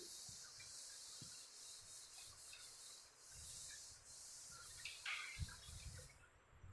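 A soft, steady scrubbing rub continues as a board is wiped clean during a sixth-grade maths lesson, a quiet close swishing that runs for several seconds with a few faint knocks and no speech.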